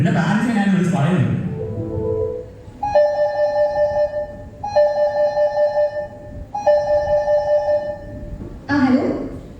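A telephone rings three times in regular, evenly spaced electronic bursts, loud and close, with someone talking before and after the rings.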